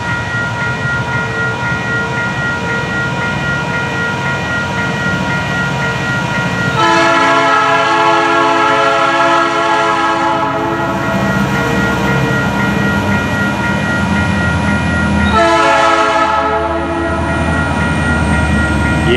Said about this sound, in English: But definitely an SD60 locomotive, though.